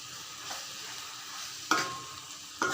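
Cooked rice stirred in a pan over low heat, a soft steady sizzle with two distinct metallic spoon strikes against the pan rim, one ringing briefly, heard up close with no speech.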